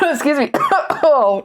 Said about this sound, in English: So that sound of coughing you heard,